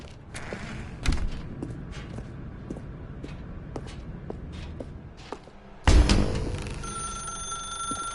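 In the video game The Stanley Parable, footsteps and faint creaks pass through a dark room, then a loud telephone bell suddenly starts ringing nearby and keeps going.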